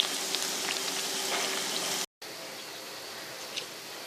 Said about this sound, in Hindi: हमारे ब्रेड के बड़े अभी वो फ्राई हो रहे हैं